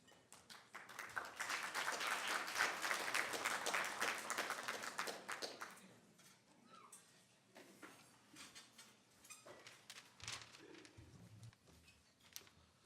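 An audience at a National Press Club inauguration event applauds loudly for several seconds, then the clapping thins into scattered, fading claps with quiet room noise.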